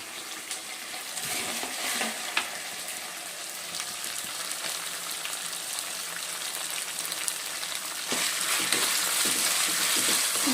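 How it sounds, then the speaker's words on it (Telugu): Vegetables frying and being stirred in a pan for dalcha, a steady close sizzle with scattered stirring clatter that grows slightly louder near the end. "ఇప్పుడు వెజిటబుల్స్ యాడ్ చేసుకున్నాం"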